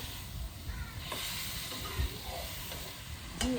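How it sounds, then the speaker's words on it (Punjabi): Tomatoes and two green chillies with salt sizzle steadily in a hot pan, a continuous close hiss with faint stirring scrapes and no talking. "ਤੇ ਇਹਨਾਂ ਨੂੰ ਵੀ ਨਾ ਵਿੱਚ ਫਰਾਈ ਕਰਾਂਗੀ ਥੋੜੀ ਦੇਰ ਲਈ।"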